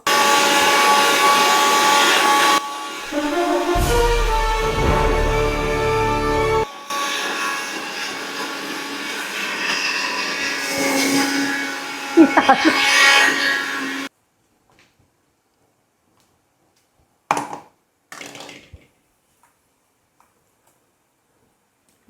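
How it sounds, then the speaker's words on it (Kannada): Mixer grinder blending ginger and garlic into paste, a loud steady motor whine with buzzing, running in sustained bursts, then cutting off and followed by a couple of brief, fainter pulses. "ಇದು ಶಾರ್ಪ್ ಇಲ್ಲ ಮಿಕ್ಸರು, ಅದಕ್ಕೆ time ತಗೋತಿದೆ. So guys ginger garlic paste"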